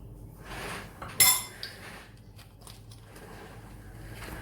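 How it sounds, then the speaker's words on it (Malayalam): A spoon mixes cake rusk batter with vanilla essence in a bowl, giving soft scraping and one sharp clink of utensil against the bowl, alone with no talking. "എന്നിട്ട് ഇത് നന്നായിട്ട് മിക്സ് ചെയ്ത് കൊടുക്കാം."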